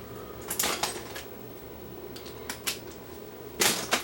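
Screws being removed from the cover of an Arcam AVP700 audio processor, heard as a few sharp metallic clicks and rattles in separate bursts, close up against a quiet room.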